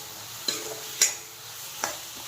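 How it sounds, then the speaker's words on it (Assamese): Tomatoes cook in oil with whole cumin for a fish and tomato curry, giving a soft low sizzle. Three sharp scraping stirs stand out above it, alone with no voices. "বিলাহীখিনি গ্ৰেভি হোৱালৈকে ভাজি থাকিম।"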